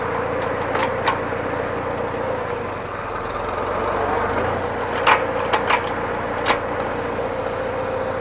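A 1955 IH Farmall Cub tractor engine runs at a steady, quiet idle, a low even drone with a few sharp clicks and clanks near the end.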